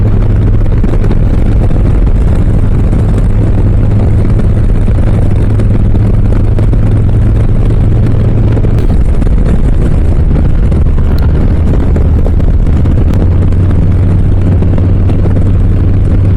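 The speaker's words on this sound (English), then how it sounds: "this bike sounds so good" A 2023 Harley-Davidson Low Rider S motorcycle rides along a road with a steady, loud engine drone and heavy wind rush throughout, the engine note shifting slightly in pitch partway through.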